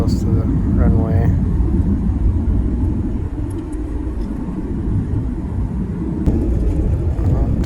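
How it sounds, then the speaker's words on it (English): Inside a passenger airliner descending toward the runway for landing near Seattle, a loud, steady low cabin rumble of engine and airflow fills the clip, with a voice speaking briefly near the start. "We are dropping, getting ready to land."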